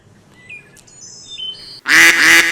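Ducks call in a sudden loud, harsh burst of honking quacks near the end, following a quieter stretch of scattered faint bird calls and whistles.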